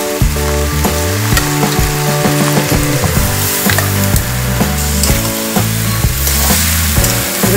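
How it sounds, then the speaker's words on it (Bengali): Gobindobhog rice frying in a hot pan, a loud steady sizzle with repeated wooden scraping and stirring knocks throughout, close and continuous with no talking. "আমি গোবিন্দভোগ চালগুলো দিয়ে দিলাম এসে"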